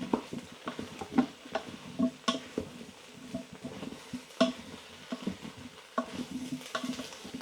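Sweet potatoes being stirred in a pan while frying for a sweet potato and coconut curry, with steady sizzling under repeated scraping and knocking of a utensil against the pan, close and alone.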